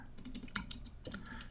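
Fingers typing code on a computer keyboard in Xcode, a quick run of light, close key clicks with a couple of sharper taps, no voice over it.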